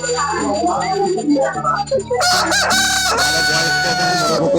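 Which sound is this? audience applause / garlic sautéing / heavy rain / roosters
roosters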